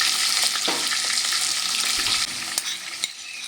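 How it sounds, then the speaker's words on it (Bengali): A ginger, garlic, onion and green chili paste fries in oil with tomato, giving a loud, continuous sizzle as it is stirred, then easing slightly with a few scraping knocks of the spoon. "তেলের মধ্যে মশলাটা দেওয়া হয়ে গেল।"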